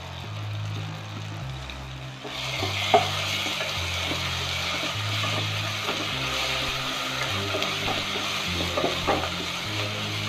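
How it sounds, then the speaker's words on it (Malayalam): Ground paste of garam masala, garlic, ginger, shallots, coriander, chilli and turmeric powders frying for chicken mappas curry, a continuous close sizzle that swells after the paste drops in, with low background hum and no talk. "ഇനി നമുക്ക് നമ്മൾ നേരത്തെ ഗരം മസാലയും വെളുത്തുള്ളി, ഇഞ്ചിയും, ചെറിയ ഉള്ളിയും, മല്ലിപ്പൊടിയും, മുളക് പൊടിയും, മഞ്ഞൾപ്പൊടിയും ഒക്കെ പാടിട്ട് അരച്ച് അരപ്പ് ചേർത്ത് കൊടുക്കും"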